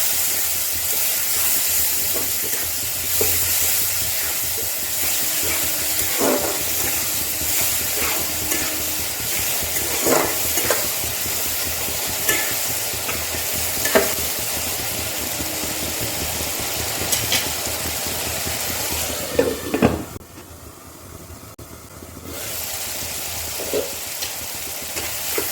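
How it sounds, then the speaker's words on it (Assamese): Spices are stir-fried for an Assamese-style duck curry, a continuous close sizzle with scattered scraping stirs and one louder clatter near the end before the hiss softens. "মছলাখিনি ভালকৈ ভাজি ল'ম"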